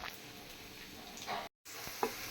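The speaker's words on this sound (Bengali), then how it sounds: "পেঁয়াজটাকে লাল করে ভেজে নিতেছি" Onions fry in oil until browned for a dried-fish dish, a steady soft sizzle with a brief break and faint stirring clinks.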